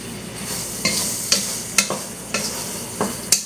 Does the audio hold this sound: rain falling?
no